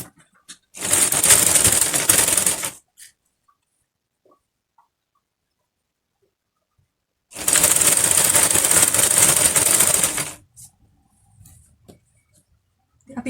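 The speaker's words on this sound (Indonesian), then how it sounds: "Setelah pakai jarum pentul, kita mulai jahit dari ujung" Two bursts of a sewing machine stitching a skirt waistband to the skirt, each running steadily for about two to three seconds with a quiet pause between them, close and fairly loud.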